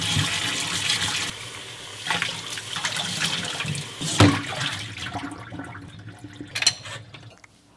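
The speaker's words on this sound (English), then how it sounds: "So let's wash blueberries." Blueberries being rinsed under a running kitchen tap, with water splashing and streaming in uneven bursts and a few clunks, fading toward the end with no talk.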